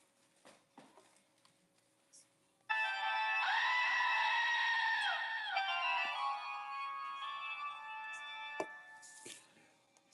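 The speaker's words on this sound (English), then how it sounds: "scream some goats" A goat screams in a single loud, drawn-out wavering bleat lasting a few seconds, suddenly breaking over a quiet background of faint taps and thumps before trailing off.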